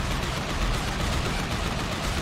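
Dense, continuous gunfire from the Transformers: Revenge of the Fallen video game, a loud unbroken barrage of rapid shots with no pauses.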